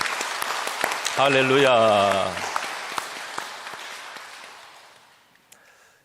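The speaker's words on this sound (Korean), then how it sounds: "우리 모두에게 한번 우리 큰 박수로 한번 영광 돌리고 시작합니다" Church congregation breaking into applause, a burst of clapping that swells and then fades gradually over several seconds, with a sung or spoken exclamation over it at the start.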